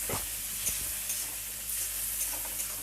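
Chopped tomato frying in a pan for egg tadka gives a steady close sizzle and hiss, with a few soft stirring knocks near the start and middle. No one speaks.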